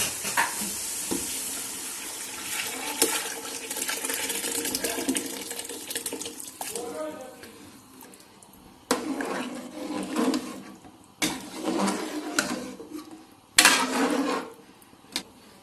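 Chickpeas tipped into fried masala in a pan, a loud sizzling hiss at first that fades, followed by intermittent scraping and stirring bursts with clanks of a spoon against the pan.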